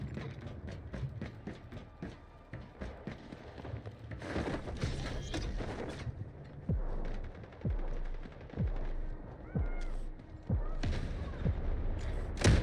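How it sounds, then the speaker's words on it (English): Rapid bursts of gunfire and heavy thumps from an artillery barrage in a military video game, an irregular stream of shots and impacts, moderately loud, with sparse voices in the background. "Artillery barrage ready."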